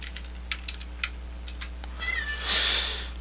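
A cat meows once in the background, a rising drawn-out cry toward the end, preceded by scattered light clicks and taps over a steady low hum.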